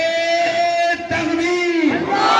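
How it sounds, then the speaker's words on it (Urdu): At an Urs gathering in Ballari, Karnataka, a large crowd shouts the Nara-e-Takbeer slogan in response, loud massed voices rising together in a short call-and-response burst over an amplified leading voice. "ہم ان کا استقبال نعرے تکبیر کے ساتھ کریں گے۔"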